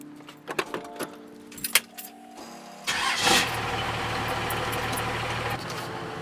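A 12-valve Cummins diesel truck engine with an FTE resonator exhaust cranks and fires up after a few clicks and key jangles, then settles into a loud, steady, rumbling idle close by.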